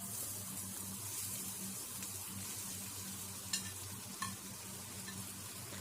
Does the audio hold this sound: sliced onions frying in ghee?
yes